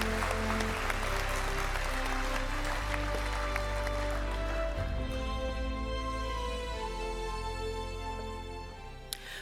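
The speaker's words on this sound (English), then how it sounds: "Now you can applaud." Applause breaks out in a large hall at a TMS-AIME awards ceremony after an award is announced. Steady, sustained clapping lasts around nine seconds, layered over sustained musical tones, and eases off toward the end.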